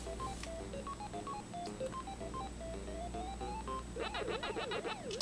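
Chiptune music from a yellow Namco plug-and-play video game console, steady bright square-wave melody with bouncing arpeggio tones near the end, continuous and moderately loud, no voices.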